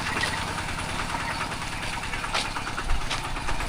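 A tractor engine idles steadily throughout, a dense low mechanical rumble with a constant knocking throb, loud and close with no talk over it.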